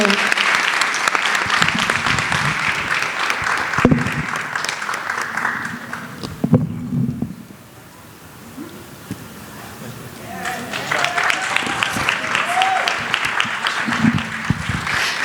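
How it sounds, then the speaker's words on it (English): Applause for a student of the month at a school advisory board meeting: sustained clapping from a crowd in a hall that fades briefly in the middle and then swells again, with a few voices underneath. "let's give a round of applause to Edwin"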